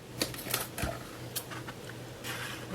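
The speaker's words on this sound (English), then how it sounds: "And then I'll cut a piece of transfer tape to fit" Transfer tape being cut while layering vinyl on a Cricut project: a few quick, crisp snips and rustles spaced across a couple of seconds, close and fairly quiet, with no talking.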